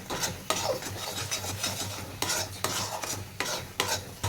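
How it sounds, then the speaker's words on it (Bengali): A spoon scrapes and stirs sandesh mixture in a hot pan to dry it, giving rhythmic rasping strokes at roughly half-second intervals with a faint sizzle underneath, close and clear without talking. "তারপর আমি এটাকে ভালো করে পরে একটু নেড়ে নিচ্ছি, একটু ড্রাই করে নেব।"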